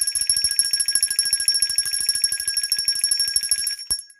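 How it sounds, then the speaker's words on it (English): A bell rings in rapid, evenly repeated strikes with a bright, sustained metallic tone, carrying on for several seconds before a sharp knock and a quick fade. "She just blew her breath out because she mad I rung the bell."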